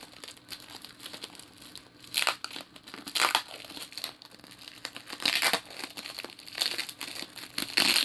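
Tape and packaging on a gift parcel crinkle and rip in repeated bursts, close and fairly quiet, with uneven pauses between the tears.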